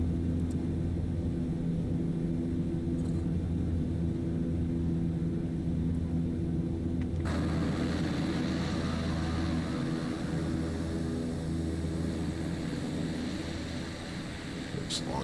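Beech Starship turboprop engines idling as the aircraft taxis in Microsoft Flight Simulator 2024, a steady low rumble and drone with a brighter hiss joining midway, continuous and moderately loud throughout.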